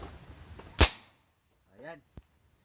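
A single sharp pop from a small butane toy gun firing an 8mm steel ball, followed by a brief faint voice and a small click, otherwise quiet.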